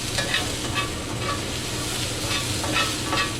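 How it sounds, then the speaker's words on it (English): Potato bacon pierogies searing in a hot pan with steady, dense frying sizzle, close and continuous, with faint stirring movement throughout. "I'm going to use some of this to sear off our pierogies"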